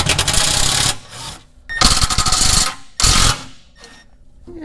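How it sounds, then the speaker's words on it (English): Power tool, likely an impact wrench, loosening front bumper bolts on a Hummer H3: three loud bursts of whirring and rattling separated by short pauses, close up, with no talk. "So let's just loosen these up a little."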